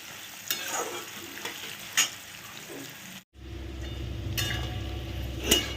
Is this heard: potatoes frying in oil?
yes